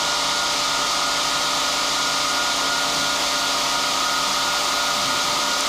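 A cooling fan blows on the spark contacts of a radio transmitter at Grimeton, a steady, loud, unbroken whoosh with a constant hum and no talking.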